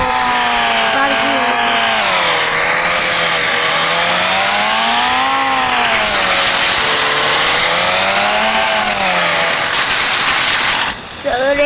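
A cartoon car's engine revs loudly and continuously while parking, a sustained, wavering whine that rises and falls in pitch for about eleven seconds before cutting off abruptly near the end.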